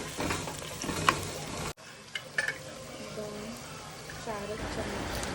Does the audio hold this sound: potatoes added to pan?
yes